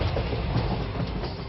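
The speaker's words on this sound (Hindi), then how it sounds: "इस शालीमार चेन्नई की कोरोमंडल एक्सप्रेस अभी गुजर रही है बहानुगा स्टेशन के बाहर से" The Coromandel Express from Shalimar to Chennai passes outside Bahanaga station in a steady, loud rumble of wheels and carriages, with no voices.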